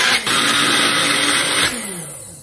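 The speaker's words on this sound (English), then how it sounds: "these little blender bullets are great for this because you just drop them in and it's gonna get a little loud." A small bullet blender whirs loudly and close while blending a high-protein queso dip, a steady motor whine that drops in pitch and fades as it stops near the end.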